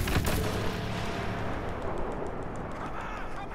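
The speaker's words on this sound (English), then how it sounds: "Enough with that blaster cannon." Blaster cannon in the Star Wars Battlefront video game fires in a dense, continuous barrage of booming shots, loud and close, with heavy rumbling filling the whole stretch.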